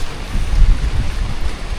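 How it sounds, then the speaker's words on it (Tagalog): Rain falling outdoors near a highway, a dense, steady hiss with low rumbling wind buffeting the microphone, loud and close, with no voices. "Kaso lang, inabutan kami ng ulan."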